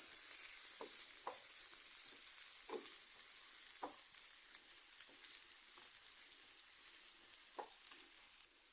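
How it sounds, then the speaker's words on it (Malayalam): Chopped small onions (shallots) sautéing in a pan for an onion chutney, a steady bright sizzle throughout with occasional soft stirring scrapes and taps. "നമുക്കൊരു പത്ത് ഇരുപത്തഞ്ച് ഗ്രാം ചെറിയുള്ളി അരിഞ്ഞതും കൂടി ഇട്ട് കൊടുക്കാം നന്നായിട്ടൊന്നൊരു കളർ മാറുന്ന വരെ ഒന്ന്"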